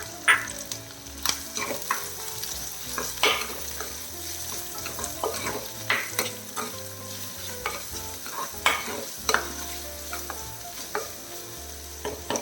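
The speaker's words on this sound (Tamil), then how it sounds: "நல்லா வதங்கணும் இந்த சின்ன வெங்காயம்." Small onions sauté and crackle in hot oil in a pan while a spoon stirs them in irregular scrapes, a steady close sizzle running underneath, with no talking.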